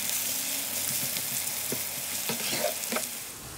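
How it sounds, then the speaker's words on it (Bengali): Onions, about a cup, frying in oil in a pan: a steady close sizzle throughout with a few light stirring scrapes, no voices. "এখানে 1 কাপের মতো পেঁয়াজ দিয়ে এখন আমি পেঁয়াজটা একটু ভেজে নেব"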